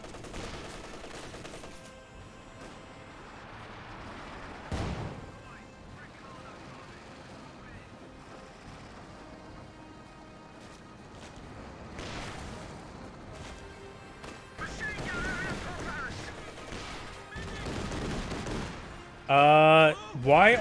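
Distant gunfire and bursts of machine-gun fire from a Company of Heroes 2 battle crackle intermittently under a low ambient rumble, with occasional louder shots and a sharper burst near the end.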